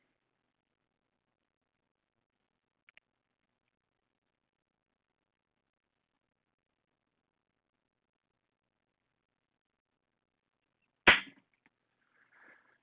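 A pair of dice thrown during craps practice lands with one sharp, brief clatter near the end, after a faint tick early on, with near silence around it.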